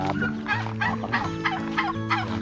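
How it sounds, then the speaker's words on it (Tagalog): A turkey gobbles loudly and close at hand in a rapid series of throaty rattling bursts, with no talk over it. "May pabo."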